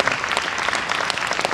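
Warm, dense applause fills a hall after a performance at a Gyeongju citizens' forum, steady and loud throughout the short stretch.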